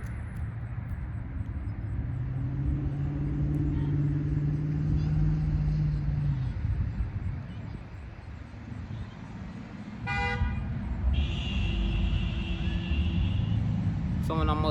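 Traffic on a road rolls past with a steady broadband roar, rising and falling as cars go by, with a couple of short horn toots near the end.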